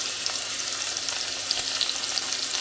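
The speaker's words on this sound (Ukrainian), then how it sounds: "І смажемо далі сало до рум'яночки." Fat sizzles steadily in a hot pan, a constant bright crackle with scattered small pops, close and continuous.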